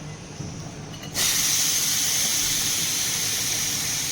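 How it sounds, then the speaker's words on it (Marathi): A loud, steady hiss of steam from a pressure cooker in a home kitchen bursts out after a second of quieter background and keeps rushing on without letup. "तर आता आपण कुकरला खाली ठेवूया. त्याची वाफ काढून टाकते."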